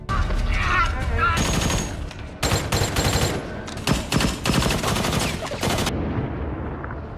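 Gunfire erupts in a film scene as a hostage girl shoots at a gang's henchmen, with dense bursts of loud, close shots in rapid volleys separated by short pauses, ending in a lower rumble.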